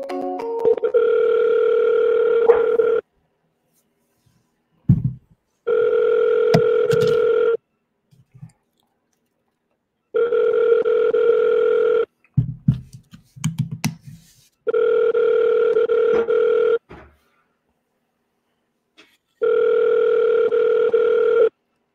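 Ringback tone of an unanswered outgoing telephone call, sounding as five long, steady buzzing bursts separated by pauses, with a few soft clicks and handling noises in the gaps.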